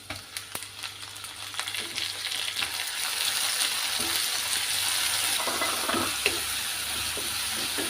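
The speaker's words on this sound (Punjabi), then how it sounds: "ਪਿਆਜ਼ਾਂ ਨੂੰ ਅਸੀਂ ਚੰਗੀ ਤਰ੍ਹਾਂ ਦੇ ਨਾਲ ਭੁੰਨ ਲਵਾਂਗੇ" Finely chopped onions fry in a pan over garlic-ginger paste, a steady close hiss and sizzle that swells after a few scattered clicks, with occasional light stirring and no voices.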